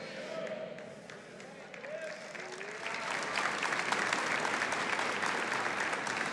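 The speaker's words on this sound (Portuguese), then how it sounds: "não aplaudam a mim, aplaudam o Rei dos Reis" Church congregation applauding in a worship service, a dense wash of clapping that swells and grows louder halfway through, with a few voices calling out beneath it.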